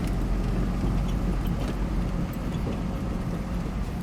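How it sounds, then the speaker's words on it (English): A Ford F650 truck with an Allison transmission rolls along on a test drive, its engine and road noise forming a steady, moderately loud rumble without speech. "So now we're gonna take this for a test drive."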